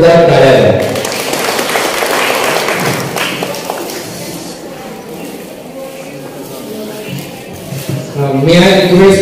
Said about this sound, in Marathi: त्यांच्यासाठी पुन्हा एकदा तुम्ही जोरदार टाळ्या द्या